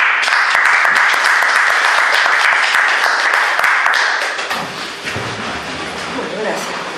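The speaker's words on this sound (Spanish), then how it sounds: "La recibimos con un aplauso." Warm audience applause greets a history lecturer at a talk, loud dense clapping that runs strong for about four seconds before thinning and fading, with a voice taking over at the end.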